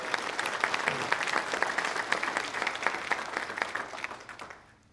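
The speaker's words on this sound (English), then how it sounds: "Let's give them a round of applause for their efforts today." Audience applauds contestants at a Young Farmers and Ranchers discussion meet, a steady dense patter of many hands clapping at moderate level that fades away in the final half second.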